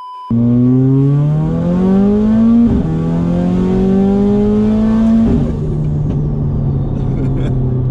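A powerful Mercedes A45 AMG engine with a big turbo revs up loudly and close, pitch climbing in two rising pulls with a sharp drop between, then settling to a rumbling idle.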